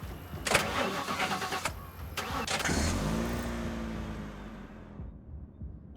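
A car engine in The Last Stand: Aftermath, freshly repaired, cranks over and catches, then settles into a steady mid-pitched running hum that fades out near the end, with no talk over it.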